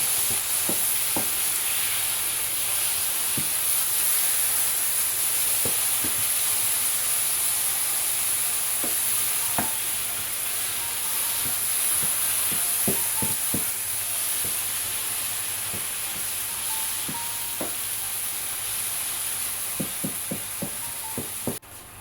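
Blended tomatoes sizzling in a hot pot while being stirred for a beef and okra stew, a loud steady frying hiss with scattered clinks and scrapes of the spoon throughout, close up and without talking.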